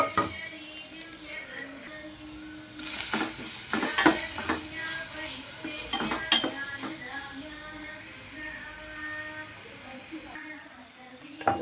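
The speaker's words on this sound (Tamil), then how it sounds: "இப்போ அதுலேயே வந்து நம்ம கேரட் துருவலை போட்டு அதே நெய்யிலே போட்டு வதக்கிக்கலாம்." Grated carrot sautéing in ghee in a pan for carrot sago payasam, a steady close sizzle and hiss that jumps louder near the third second, broken by repeated scraping stirs of a spoon against the pan, with no talking.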